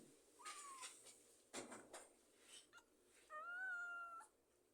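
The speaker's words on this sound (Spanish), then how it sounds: "Es increíble lo que creció este gato." A young cat meows and caterwauls in a workshop, several drawn-out tonal cries ending in a long, loud, wavering meow, close by and alone without talk.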